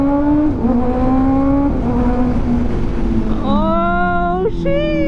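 A 2024 Kawasaki ZX-6R motorcycle with an AR exhaust out on a ride: a loud, close, high-pitched engine note rising through the revs, dropping at a gear change, then climbing sharply again.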